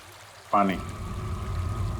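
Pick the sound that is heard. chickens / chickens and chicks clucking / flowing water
flowing water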